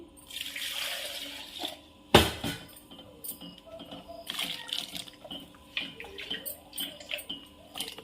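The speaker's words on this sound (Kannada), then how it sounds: "ಸ್ವಲ್ಪ ನೀರು ಹಾಕ್ಕೊಂತೀನಿ" Water splashes and pours into a pot of spicy chicken sambar, a sharp burst then uneven gurgling and clatter up close.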